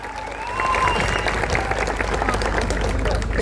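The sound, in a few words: applause welcoming newly elected district panchayat leaders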